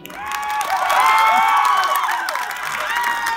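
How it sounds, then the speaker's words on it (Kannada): Women in the audience at a live stand-up comedy show clap in a burst of applause mixed with high-pitched cheering and shouts, swelling and then easing off. "ಬರೀ ಮಹಿಳೆಯರು ಮಾತ್ರ, ಅಕ್ಕವರು ಮಾತ್ರ ಚಪ್ಪಾಳೆ ತಟ್ರಿ ಅಮ್ಮ"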